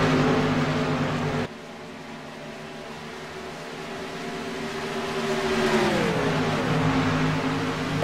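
Race car engines in a superspeedway video game race roar in a dense, continuous drone, with a sudden drop in level early on and a later pitch sweep as the pack passes close; no talking.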